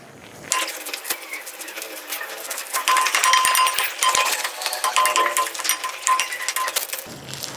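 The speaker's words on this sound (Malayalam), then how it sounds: "ഇനി നന്നായിട്ടൊന്ന് ഇളക്കി കൊടുക്കാം." A spoon stirs and scrapes onion and tomato in a metal pan for Kerala-style soya chunk curry, with continuous clinking, scraping and faint sizzle, close and steady.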